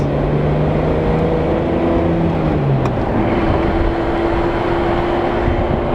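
A VR6-engined car cruises along the road, giving a steady loud drone of engine and road noise with a held tone that shifts pitch partway through, no talk heard.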